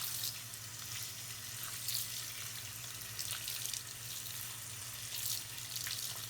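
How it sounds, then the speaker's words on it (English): A tap runs steadily while a Bratz doll's hair is rinsed under it, a constant close splashing water stream with slight fluctuations as the hair moves. "You just rinse the hair."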